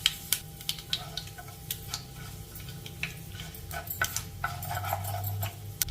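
Mustard seeds, urad dal and cumin crackle and sizzle in hot oil for a South Indian tempering, with sharp scattered pops over a low steady fry and faint clinks.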